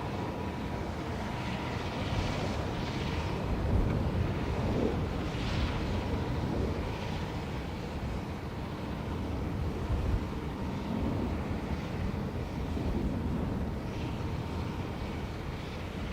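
A KLM airliner arrives from Amsterdam at Dublin Airport on a crosswind day, making a steady, distant engine rumble that holds evenly throughout with no talk.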